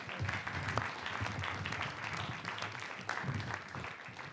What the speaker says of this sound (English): How about a round of applause for George Dohrmann?